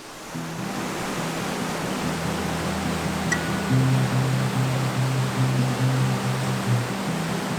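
Waterfall at the end of a river run in Labrador, a dense, steady roar of falling water with a low rumbling undertone, continuous and unbroken, no voices.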